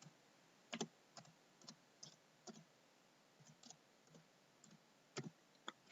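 A computer keyboard is typed on to enter a password, with sparse, quiet individual key clicks in an irregular rhythm over a near-silent background.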